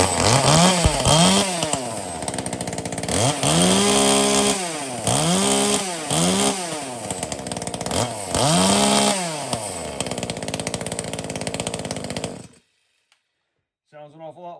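A V-Modest VM-2511P rear handle chainsaw runs close by, revving up and down in repeated rising and falling pulls for about twelve seconds before cutting out to silence, then a brief voice speaks.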